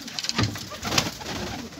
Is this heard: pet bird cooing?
yes